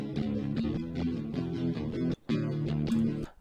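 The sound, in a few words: clean DI guitar tracks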